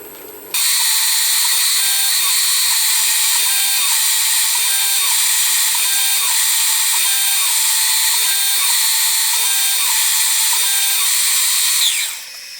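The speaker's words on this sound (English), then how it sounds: "swap it out for a 1/16 drill bit, and we'll finish drilling those holes" Lathe drilling holes with a 1/16 drill bit in a cylinder cover for a Stuart Turner No. 8 model mill engine, a loud steady high whine held for about eleven seconds before winding down.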